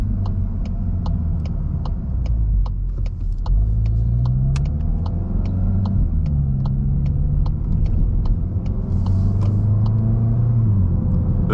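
A Mk8 Volkswagen GTI engine rumbles loudly from inside the cabin as the revs rise and fall while downshifting with paddles, punctuated by a steady series of small, sharp exhaust pops.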